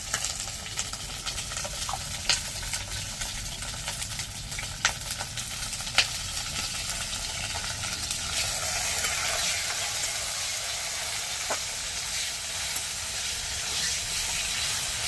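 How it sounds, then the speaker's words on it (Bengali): Eggplant fries in hot oil in a pan with a constant hiss and sizzle, while sharp pops and spatters break through the spitting oil now and then. "দেখো কত তেল ছিটকাতে গেছে"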